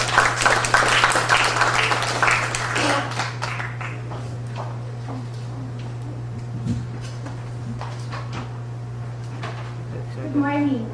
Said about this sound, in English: Ladies and gentlemen, a round of applause for Dr.